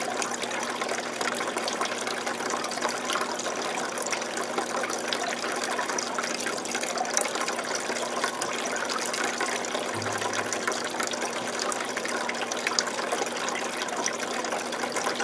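Water pours and gushes steadily through a hose during a 125-gallon planted aquarium water change, a continuous close, even rush with no talking.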